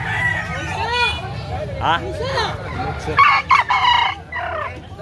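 A rooster at a poultry sale in Carbon, Cebu gives several loud, close calls and crowing bursts, mixed with clucking from other fowl, while people chat nearby.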